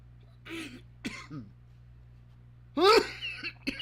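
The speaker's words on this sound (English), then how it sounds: "now I'm going to cough" A few short, harsh coughs and throat-clearing bursts, close to the microphone, separated by quiet pauses.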